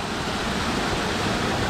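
Steady rushing of a stream pouring over rocks beside Buck Mountain Road, a tributary of Buck Mountain Creek, close and continuous with broadband splashing and no pauses.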